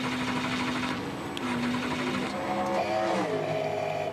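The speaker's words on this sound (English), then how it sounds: "You hear cranking. It's cranking," A stalled race car's engine cranks on the starter during the 2014 Sebring race: a steady, buzzing mechanical whir that runs continuously over a broad engine-and-track ambience, fairly loud and without speech.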